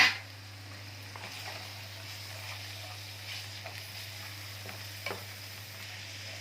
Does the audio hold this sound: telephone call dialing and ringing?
no